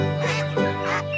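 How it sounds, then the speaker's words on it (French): A mother duck quacks close by, several loud nasal quacks in quick succession. "maman canard et ses canetons,"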